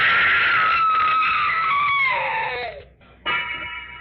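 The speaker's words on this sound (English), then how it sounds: "Wish I never heard that scream." A loud, long scream from an old-time radio detective drama, holding steady and then trailing off downward, followed by a sharp cutoff and a short burst of noise.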